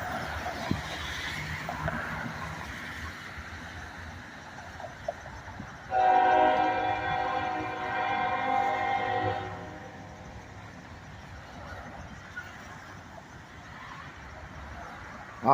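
A CSX freight train on the old Seaboard Air Line right-of-way rolls slowly past in Greenwood, South Carolina, a steady rumble with a loud horn blast held for several seconds midway.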